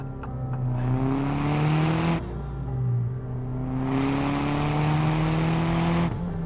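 A turbocharged Mazdaspeed 3 hatch accelerates hard through the gears, its engine note climbing steadily, then breaking at each shift before climbing again, loud and close.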